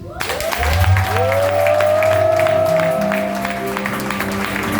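A church congregation at a New Year's Eve service breaks into loud, sustained applause that swells and holds, with a sustained musical tone ringing underneath and a voice briefly rising over the clapping.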